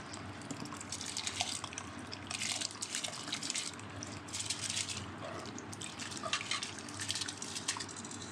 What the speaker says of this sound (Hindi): तो मैंने चावलों को ड्रेन कर लिया है